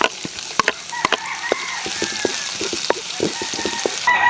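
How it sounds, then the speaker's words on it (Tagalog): Garlic and then onion sauté in a hot, oiled pan while being stirred, making a steady sizzle with irregular scraping clicks from the utensil. "Magigisa na tayo ngayon. Unahin natin yung bawang. So, ito na. Susunod na natin yung sibuyas."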